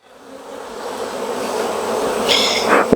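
Honey bees hum in a dense, steady swarm around an opened hive during a July check, close to the ear and swelling louder toward the end with a brief sharper buzz.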